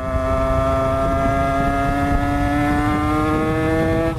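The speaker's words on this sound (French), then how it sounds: "le pot Doppler, comme il fait pas de bruit" Motorcycle fitted with a new Doppler Vortex exhaust idling steadily and fairly loud, with an even, smooth drone and no revving throughout.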